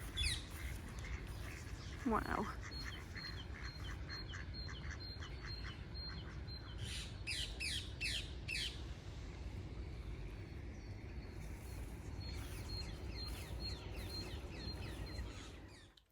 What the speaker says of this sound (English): Look at the ducks.